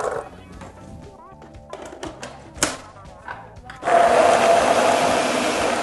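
Rinsed fresh cranberries are ground in a food processor for holiday cranberry sauce: a few light clatters and thumps, then the motor kicks in with a loud, steady, close whirring grind that runs to the end.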